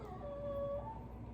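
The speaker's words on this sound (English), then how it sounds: "sorry that you can hear our dog in the background" A dog in the background gives a single drawn-out, high whine, faint and thin against a low room hum.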